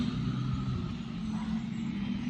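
Road traffic passes close by a residential garden, a loud continuous engine rumble and tyre drone from vehicles going by, with no speech.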